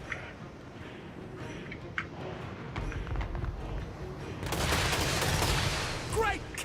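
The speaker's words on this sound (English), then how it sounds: "Not even sure if the cannons are firing at anything." Cannons boom across a Total War battlefield, a few heavy reports and rumbling volleys amid battle noise, building into a loud, dense roar near the end.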